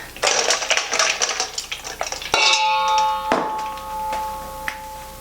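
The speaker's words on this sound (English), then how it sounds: "Stir, stir, stir." A sugar mixture for homemade Mallomars is stirred in a pot, with quick scraping and clinking strokes of a utensil against metal for the first couple of seconds, then a ringing metallic tone that fades.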